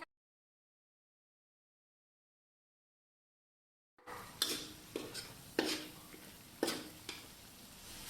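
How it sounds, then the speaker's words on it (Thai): After several seconds of silence, homemade massaman curry paste and spices are stir-fried in oil in a pan, with repeated spatula scrapes and sharp clinks against the metal over a soft, low sizzle. "นำลงผัดกับน้ำมันได้เลยค่ะ พอเครื่องแกงเริ่มแห้งค่ะ เราใส่น้ำมันลงไปค่ะ"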